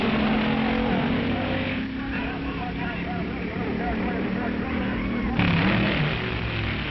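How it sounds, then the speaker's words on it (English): A Ford Thunderbird and a Chevrolet Corvette race in the sports car class at a drag strip, engines droning and revving at a distance under talk, with a louder burst near the end. "A Thunderbird and a Corvette in the sports car class"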